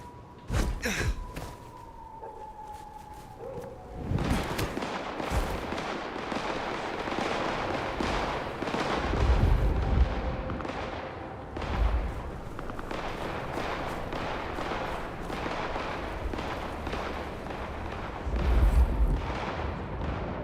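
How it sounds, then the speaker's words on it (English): Rapid bursts of gunfire crackle and pop throughout, with heavier booms now and then, a busy firefight in the game Vampire: The Masquerade – Bloodlines 2. "I hear lots of gunshots."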